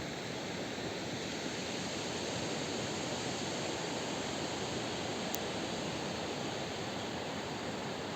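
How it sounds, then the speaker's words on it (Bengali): Sea surf on the beach at Kuakata, Patuakhali, beside a dead forest, makes a steady broad roar that runs without a break and has no voices over it. "সামনেই সমুদ্র সৈকতের গর্জন।"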